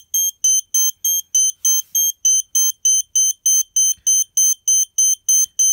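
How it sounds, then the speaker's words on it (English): Snap Circuits horn beeping loudly in a fast, steady pulse of shrill high-pitched tones, about three per second, with silence between beeps and nothing else audible. "I'm going to try to cover the horn. But listen to the sound."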